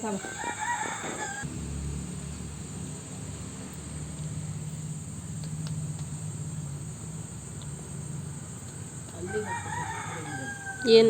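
A rooster crows near the start and again at the end, with a steady chorus of crickets and faint clucking filling the quiet between.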